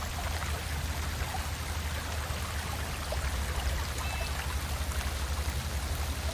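Rushing floodwater pours and streams steadily without pause, a dense continuous wash of flowing water at moderate level.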